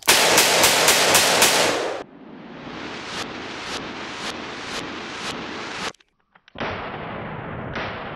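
A Taurus Raging Hunter .44 Magnum revolver with a 6-inch barrel fires a string of loud, sharp shots in steady succession, each blast ringing briefly, with a short silent gap before the last few.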